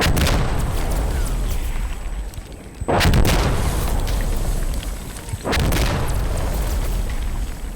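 Off-map artillery lands in a barrage in the shooter game Insurgency Sandstorm. Two heavy, booming impacts hit a few seconds apart, each with a sharp crack and a long rumbling tail, over steady battlefield background noise.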